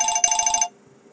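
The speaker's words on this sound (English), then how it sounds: "That's a phone. I'm going to ignore that unless it's incredibly important." A telephone rings with a short electronic trill that sounds loud and close, then stops abruptly after about half a second, leaving near silence.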